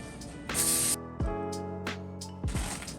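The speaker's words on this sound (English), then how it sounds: "I'm going to spray vegetable oil on the pan." A can of vegetable oil sprays onto a pan lined with parchment paper in two short hissing bursts, close and clear, separated by a quiet pause with a faint hum in the background.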